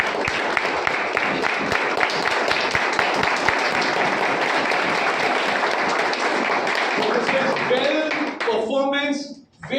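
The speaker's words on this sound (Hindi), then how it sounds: "जोरदार तालियों के साथ उसका स्वागत करते हैं" An audience at a product training session claps loudly in welcome, with dense, continuous applause that holds strong for several seconds and then fades out abruptly near the end.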